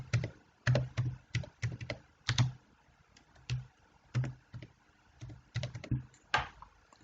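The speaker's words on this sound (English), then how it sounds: "So I'll just here type hashtag" Typing on a computer keyboard in short bursts of crisp key clicks with pauses between, close and fairly quiet, no talking.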